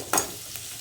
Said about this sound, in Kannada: ಇವಾಗ ನಾನು ಈರುಳ್ಳಿ ಫ್ರೈ ಆಗ್ತಿರೋದಕ್ಕೆ